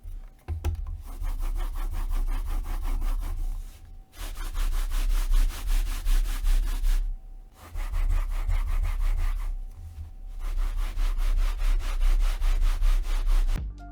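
A mouse sliding back and forth across a Lethal Gimme Gear Venus Pro mouse pad: close, steady scraping strokes in several long passes with brief pauses between them, alone.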